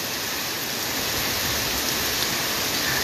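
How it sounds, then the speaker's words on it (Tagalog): Dense, steady roar of heavy rain with strong wind during a typhoon, a continuous loud wash of noise with no pauses. "nararanasan ang malakas na ulan na may kasamang malakas din po na hangin"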